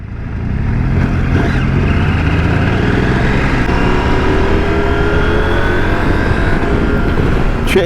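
A KTM 890 Adventure R or BMW R1300 GS motorcycle engine revs close up and upshifts with a quick shifter, a loud steady drone rising in pitch after a short build at the start.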